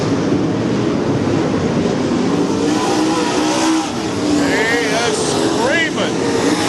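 An UMP dirt race car engine roars as it comes down turn 4 at I-55 Raceway, a steady loud motor with rising revs near the end, under an announcer's commentary.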